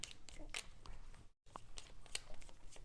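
A deck of cards from the board game Pitch Deck being shuffled, quick papery riffles and crinkly snaps close by, broken by a brief silent gap before more card handling.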